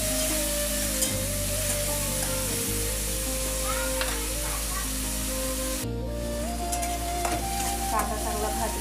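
Onion frying in a pan for healthy upma, a steady close sizzle running throughout with a faint tonal hum and light stirring clatter, no voices.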